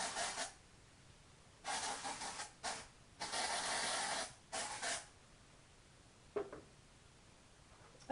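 Several bursts of dry shampoo aerosol spraying onto the scalp, hissing in short and longer blasts, close up, with quiet pauses between them and no talking.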